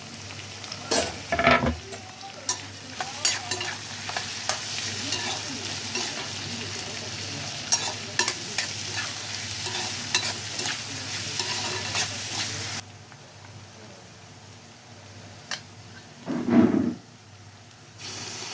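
Finely chopped onions sizzle and hiss steadily in a hot pan for a mutton curry, with frequent scraping stirs and clanks of a spoon close by, the frying continuing as a softer hiss near the end.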